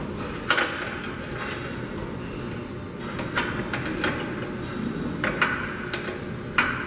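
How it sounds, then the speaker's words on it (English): A 7/16 open-end wrench loosening the gas orifice on a DSCS heater burner, giving close metallic ticks and clicks scattered irregularly over a steady background hum. "Use an open end wrench. Again, this wrench is"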